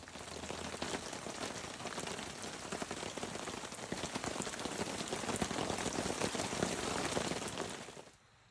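Steady rain patters densely on a surface, a constant close hiss of drops that cuts off abruptly at the end.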